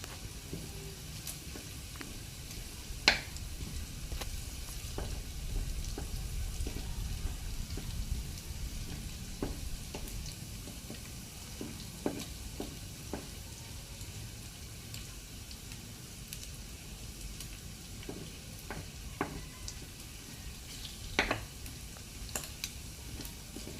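Onions sauté in a pan with golden-browned garlic for ginisang baboy, a steady soft sizzle with scattered crackles and pops, close and quiet, with no talking.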